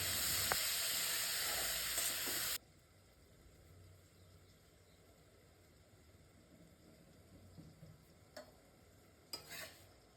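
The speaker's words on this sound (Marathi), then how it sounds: "मिरची पावडर, धने पावडर, हळद आणि मीठ फक्त एवढंच टाकते आणि तेलामध्ये चांगली फ्राय करते." Ivy gourd fries in oil with chili powder, coriander powder, turmeric and salt, giving a loud, steady close sizzle that stops abruptly, leaving faint room noise and a couple of light clinks.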